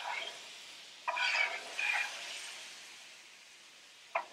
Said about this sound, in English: this will actually just sizzle up into nothing